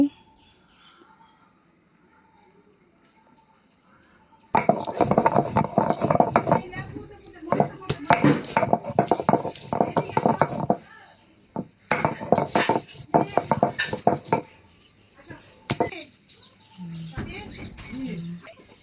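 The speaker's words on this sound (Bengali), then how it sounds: "আমি মরিচ পেঁয়াজ এগুলো বেটে নেব" Chillies and onion are ground into paste on a grinding stone, the rough rubbing and grinding starting after several near-silent seconds, then continuing in close, uneven bursts with short pauses.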